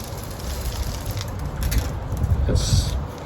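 Steady rumbling wind buffets the microphone, a low roar that swells slightly toward the end, with faint rustling over it and no talking.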